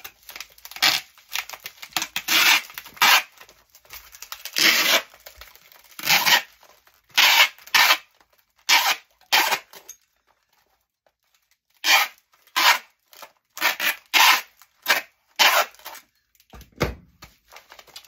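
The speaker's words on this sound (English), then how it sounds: "So I'm just gonna wrap some more tape around it." Packing tape being pulled and wrapped around a shipping box holding pottery, heard as a close series of short sharp ripping and tearing strokes in uneven rhythm, with a brief quiet pause partway through.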